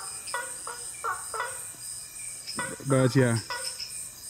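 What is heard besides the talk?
frogs calling in the rainforest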